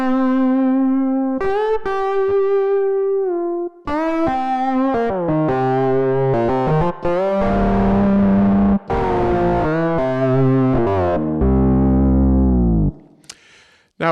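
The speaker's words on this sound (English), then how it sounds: "taking that sound and through a filter and then running it through a guitar amp" Distorted synth plucks made in Surge XT, filtered and run through guitar-amp distortion, ring out in a steady melodic line, gritty and loud, with sustained notes and sharp attacks.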